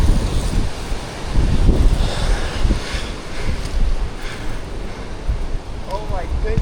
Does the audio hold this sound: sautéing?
no